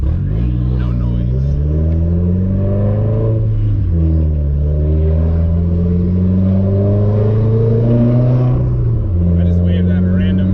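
A car fitted with an ETS Extreme catback exhaust at low RPM gives a deep, steady droning burble that climbs gently in pitch, drops at each gear change, then climbs again, heard loud from inside the car.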